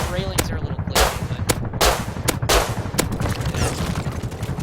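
Gunfire from a rifle in the Rust video game, aimed at an attack helicopter's rotor: several loud, sharp shots in quick irregular bursts over a dense, rumbling engine and rotor roar.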